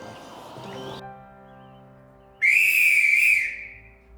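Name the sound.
railway guard's whistle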